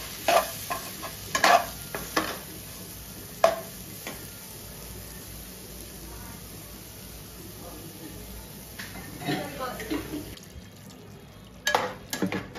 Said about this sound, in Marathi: मंद फ्लेमवरती थोडा मसाला शिजवून घ्यायचा